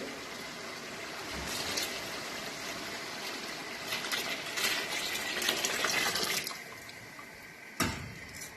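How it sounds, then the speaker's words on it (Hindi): Four litres of water being poured into a pot of chickpeas for pulao, a steady gushing stream that swells and then tapers, ending with a sharp clatter, fairly quiet and close. "अब हम लोग इसमें 4 लीटर पानी डालेंगे।"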